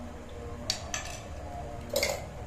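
A spoon clinks against a bowl while pakora batter is stirred together with chutney, with three short bright knocks spread over a couple of seconds against a quiet room hum.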